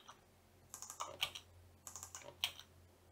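Keystrokes on a computer keyboard come in two quick bursts of close, crisp clicks with a brief pause between them, over a faint steady hum.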